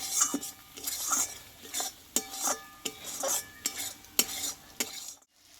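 Spice paste being stirred and fried in oil for a peanut and pointed gourd dish, rhythmic spatula scrapes and clinks against the pan about every half second over a soft sizzle, close, ending in silence.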